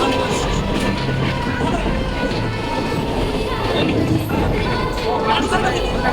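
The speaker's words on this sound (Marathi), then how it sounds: "मग फायनली आम्ही ट्रेनमध्ये बसलो." Passenger train running on the line toward Lonavla, heard from inside a carriage as a steady loud rumble with a faint clatter and a murmur of people talking throughout.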